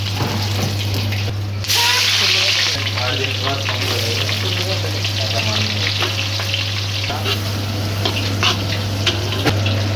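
Soaked soybeans, green chillies and onion fry in hot oil with a loud, steady sizzle that runs the whole way through, broken by occasional stirring clatter close by.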